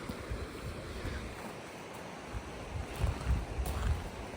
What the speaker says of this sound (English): Look at how fast this water's running.